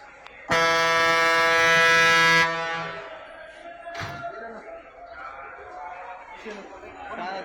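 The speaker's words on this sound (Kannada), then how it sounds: "ಕರ್ಕಶ ಶಬ್ದ ಹೊಂದಿದ ಹಾರನ್ ಬಳಸುವಂತಿಲ್ಲ" A shrill air horn on a private bus at a bus stand blares loud and close for about two seconds and then cuts off. Crowd chatter and people talking follow.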